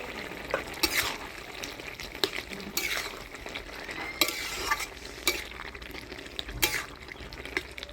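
Lentil dumplings (bori) simmer in a gourd-leaf curry, a soft, low bubbling sizzle with occasional stirring scrapes and utensil clinks, fairly quiet and without talk.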